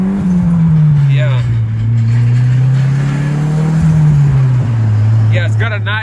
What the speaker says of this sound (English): Blow valve sounds great.